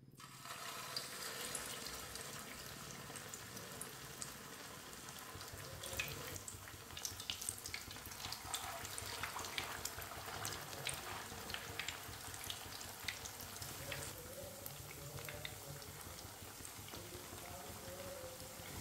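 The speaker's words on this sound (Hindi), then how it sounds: "ऑयल हमारा अच्छी तरह गर्म हो चुका है। एक एक टिक्की डाल लेंगे।" Tikki patties frying in hot oil for a Ramzan snack give off a close, steady crackling sizzle that runs unbroken throughout, with no voices.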